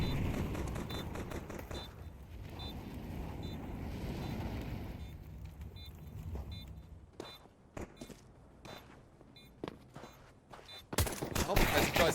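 Gunfire in the Counter-Strike 2 video game during an ESL Challenger League match: rapid bursts of rifle shots crackle over a dull background, with sharper separate shots near the end.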